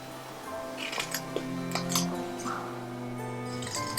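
Scissors snipping through paper lace for a Yuletide craft, a string of short crisp cuts and clicks spread across a few seconds, close by over a low steady hum.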